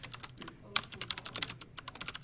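Rapid typing on a computer keyboard during a C++ programming workshop, with quick irregular key clicks and a few louder strikes, clear and close throughout.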